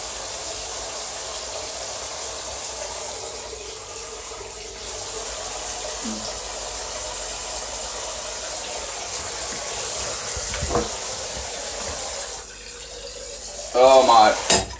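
Water runs steadily from a tap as a continuous hiss throughout, fairly loud and unbroken, with a few faint clinks and a short stretch of talk near the end.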